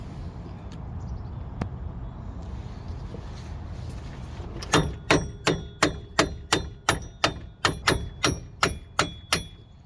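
About ten sharp metallic hammer taps strike a bolt on a 2009 Chevy Cobalt wheel hub axle, in a steady rhythm, close and loud, after several seconds of quiet shop ambience with a few faint clicks.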